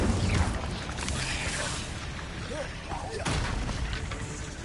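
An Incendio fire spell is cast in Hogwarts Legacy, bursting out in a fiery whooshing blast with another loud burst a few seconds later, set over dense game effects and rumble.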